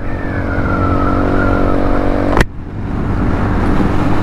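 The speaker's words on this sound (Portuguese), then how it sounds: "Ronco original dessa moto. Escapamento com um ronquinho muito massa." A Shineray Worker 125 motorcycle with its original exhaust idles and revs near the microphone. It gives a steady, loud, buzzing engine note with a slight pitch rise, broken by a sharp click midway before the drone resumes.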